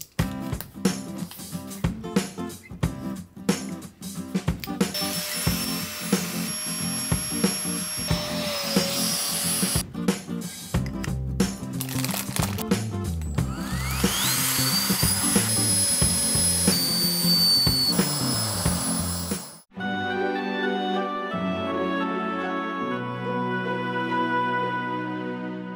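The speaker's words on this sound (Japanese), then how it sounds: "空気抜きノズルをポンプ上部のエアポートにしっかり挿す。" A palm-sized cordless electric air pump whines steadily as it sucks air out of a compression bag, its pitch shifting as the bag empties, then cuts off and gives way to soft tonal music.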